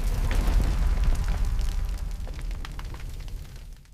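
Roaring fire flaring up, a dense low rumble with crackling pops scattered throughout, loud and close before dropping away at the end.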